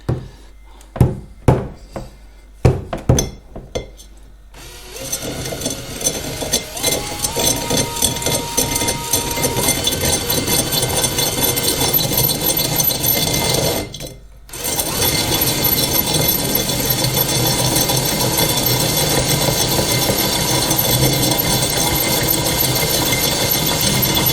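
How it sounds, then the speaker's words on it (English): An electric drill grinds through a glass Jack Daniel's bottle under running water cooling: a few sharp knocks first, then a steady, loud, gritty whir that cuts out briefly midway and resumes. "Got the drill ready."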